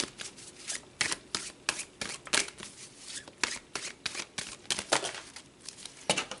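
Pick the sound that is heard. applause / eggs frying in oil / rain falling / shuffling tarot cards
shuffling tarot cards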